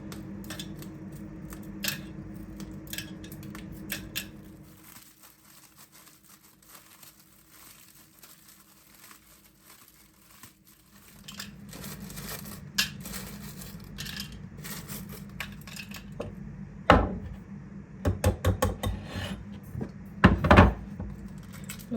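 Biscuits are snapped by hand into small glasses in a kitchen, giving scattered dry cracks and crumbly crinkles that grow louder and busier toward the end, with no talking.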